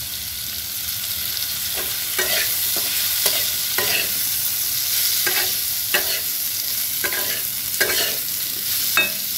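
Grated ginger is stirred with vegetables in a pan for spinach dal ghonto, a spatula scraping in repeated strokes over a continuous close sizzle.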